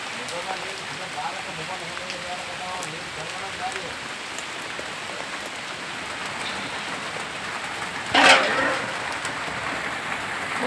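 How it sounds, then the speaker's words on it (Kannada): Steady rain falls across a farm garden, a continuous hiss of drops on leaves and ground with a brief louder splash burst near the end, heard alone without talk. "ನಮ್ಮ ಮಳೆ ಹೊಂಟತಿ"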